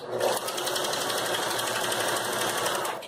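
Domestic sewing machine stitching a seam on fabric, a steady close, fast mechanical whir with rapid needle clatter running continuously throughout without talk.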